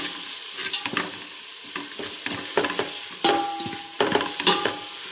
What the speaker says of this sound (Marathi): ते सगळं पण आता व्यवस्थित त्याला परतून घ्यायचं